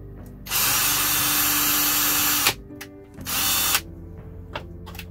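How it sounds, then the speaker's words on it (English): A power drill whirs loudly in two bursts, a long run of about two seconds then a shorter one, with brief pauses and a low hum between. "I don't like messing with drills"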